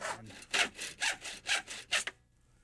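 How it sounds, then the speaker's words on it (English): A hacksaw cuts through the bottom of a metal storm door in six or so rhythmic back-and-forth strokes, harsh and close, then stops abruptly. "Then use a hacksaw to make the cut."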